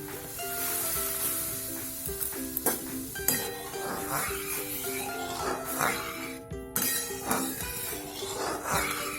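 Spinach in a pot bubbles and simmers in a steady wet burble, with faint clinks of a utensil and some bright tonal ringing in the background and no talking.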